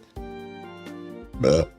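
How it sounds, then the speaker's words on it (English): A character in a visual novel game lets out a single big, loud burp near the end, following a steady voiced tone. "I had to get a big burp out there."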